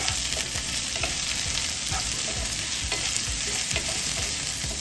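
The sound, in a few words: stirring chili, coriander and cumin powder into raw mango methamba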